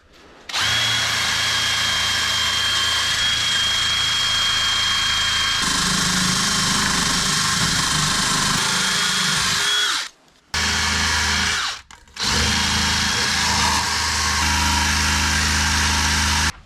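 Power tool stripping undercoating from the frame rail of a twin turbo Nissan 300ZX convertible, a loud continuous grinding drone with two brief stops near the end, heard alone outdoors in the cold.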